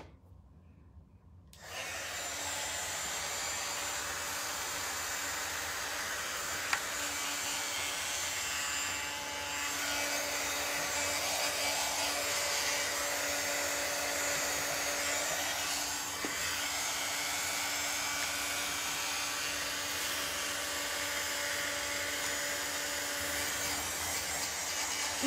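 Blow dryer drying paint on a banner, a steady loud whooshing hum that switches on after a brief quiet moment and runs continuously close by, without speech.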